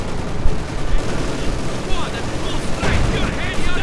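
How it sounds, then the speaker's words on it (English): MG42 machine gun fire in a Company of Heroes 2 match, heard as dense continuous battle noise of rapid bursts and explosions with a commentator talking over it. "MG42 getting a lot of kills."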